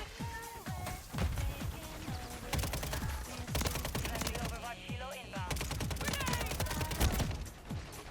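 Rapid bursts of Call of Duty gunfire crackle almost without pause, individual shots stacking into dense volleys with mechanical clatter, loud and close alongside a low voice.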